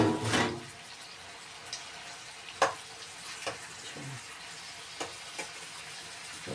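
Zucchini goes into a frying pan with a soft, low sizzle, interrupted by a few sharp clinks and stirring knocks, close and quiet.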